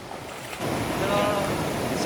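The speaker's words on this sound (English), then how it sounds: "So this is the cascading falls right above where we just crossed." Cascading falls on the Appalachian Trail, just above a stream crossing, rush in after a quiet moment as a broad, close, continuous roar of tumbling water, with some wind on the microphone.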